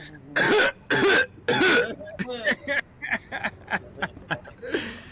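Three forceful coughs in a row, followed by a string of smaller throaty coughs and sputters.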